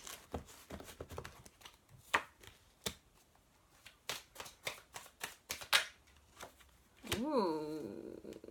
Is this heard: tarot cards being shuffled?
yes